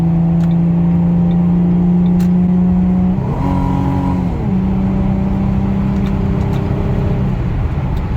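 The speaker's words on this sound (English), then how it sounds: "So it's not the nicest sounding car when it comes to like high speed" A 2005-2009 Ford Mustang accelerates on a highway, a steady droning engine note heard from inside the cabin that dips and resettles with a gear change, then holds on.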